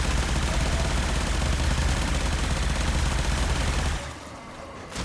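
Supra Vandal fired in the video game Warframe, a dense loud burst of rapid automatic gunfire sustained for about four seconds before cutting off.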